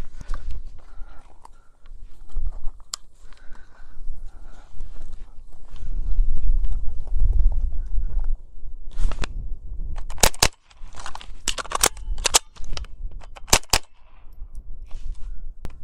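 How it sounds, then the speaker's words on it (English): Sharp gunshots from a GSG-15 .22 LR carbine at an outdoor range, cracking out in paired double taps between roughly 9 and 14 seconds, loud and close, with a pause in between for a reload. "one more time, double tap, reload,"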